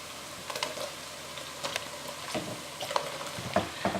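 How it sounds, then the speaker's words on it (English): Andouille sausage sizzling in a pan with bacon and onions, with a steady, moderate fry and scattered stirring clicks and scrapes close by. "now we're going to add in our next layer of flavor, which is some good old-fashioned andouille sausage"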